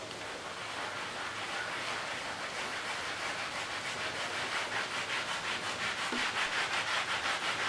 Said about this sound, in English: So we're just doing the same, wetting it down, rubbing it, using the magic eraser.